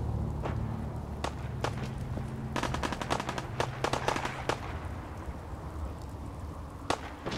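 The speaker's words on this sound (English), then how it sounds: "Oh yeah, that's definitely gunfire." Gunfire in the video game Fallout 4, with sharp scattered shots and short bursts cracking at uneven intervals over a low rumbling background, moderately loud and clustered mostly in the middle seconds, no speech over it.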